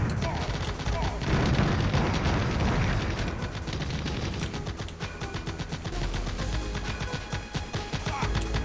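Heavy video-game combat in a shooter with tanks and missile pickups, where dense bursts of gunfire and booming grenade blasts pile up continuously at close range, with a player talking over the chaos.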